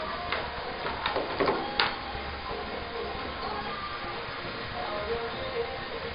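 An HP K5400 inkjet printer whirs and clicks through its ink charging cycle, with a few sharp mechanical clatters early on, then settles into a steady low mechanical hum.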